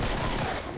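Rapid gunfire bursts out of the co-op shooter game Killing Floor, loud and dense in a short continuous volley.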